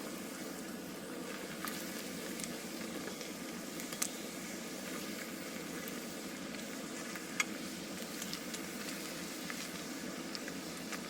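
Bacon frying on a 5-inch Firebox camp stove, a faint, continuous crackling sizzle with occasional tiny pops, steady throughout and without voices.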